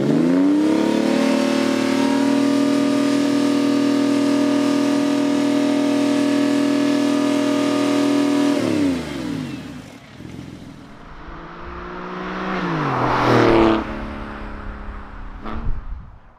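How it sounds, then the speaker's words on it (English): A 2002 Porsche 996 C2 manual with a Gundo Hack exhaust mod holds a loud, steady high rev, then drops back to a rumbling idle before a second throaty rev rises and falls. "we'll get it fired up and hear what the static and drive-by noise is like"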